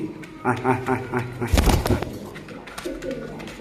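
A pair of actively breeding pet pigeons coo in repeated throaty bursts close by, with a loud rustle or flutter midway, while someone talks over them.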